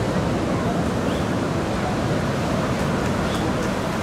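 Sea surf washes in front of a beach hotel in Ixtapa, a steady broad roar of breaking waves mixed with wind, continuous and fairly loud.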